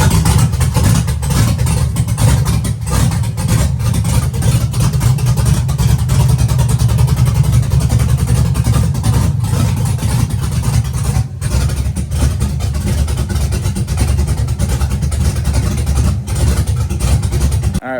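An old Chevy truck engine, long abandoned in the woods, runs close and loud with a steady low rumble throughout, its idle held fairly even with slight rises in pitch, no talk over it.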